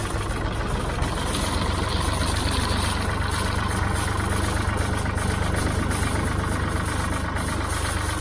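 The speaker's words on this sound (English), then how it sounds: "If I rev the engine up a bit" A Ford 3000 tractor engine runs close by with a steady, dense diesel rumble and knock, held at a raised rev throughout with no talk.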